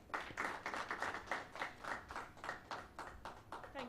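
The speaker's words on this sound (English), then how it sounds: "Welcome with me with a round of applause, Grace Pelly, to give us opening remarks" Applause from a conference audience welcoming a speaker to give opening remarks at a human rights conference, a steady dense clapping that swells and dips in waves throughout.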